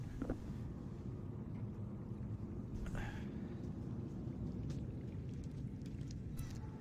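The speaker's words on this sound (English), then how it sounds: "It's frickin' raining. You hear it out there?" Steady rain falls outside, a dense continuous hiss with low rumble that holds evenly throughout, heard from indoors through a headset, with a few faint knocks and clicks over it.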